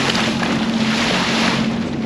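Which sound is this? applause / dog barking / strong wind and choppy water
strong wind and choppy water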